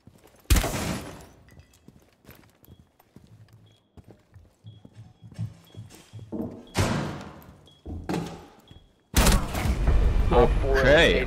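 Sharp gunshot blasts in the video game Rainbow Six Siege, several loud isolated cracks followed by a dense burst near the end, with clatter and people talking between them.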